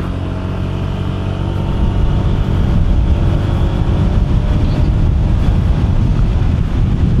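A Honda PCX 160 scooter accelerates on a speed test ride, its steady engine drone rising under heavy, constant wind buffeting on the microphone, loud and continuous, with no talking.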